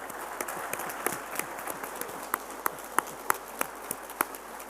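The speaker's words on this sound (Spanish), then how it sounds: "Un aplauso para los expositores, muchísimas gracias" Scattered clapping from an audience, a light patter of hands with several sharper claps standing out, fairly close and brief.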